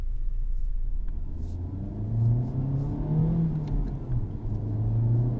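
A Honda Civic Type R drives on the road, its engine droning and rumbling as revs climb and ease in smooth sweeps, heard alone over steady road noise.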